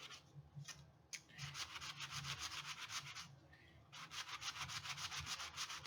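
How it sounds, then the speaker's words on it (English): A playing card is hand-sanded to rough up its surface, giving quick, rhythmic back-and-forth rasping strokes up close, with a couple of brief pauses between bursts. "I'm going to go ahead and sand this side."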